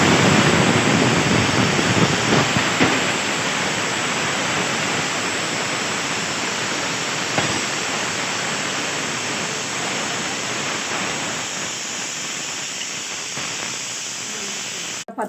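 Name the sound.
pouring liquid into a cooking pot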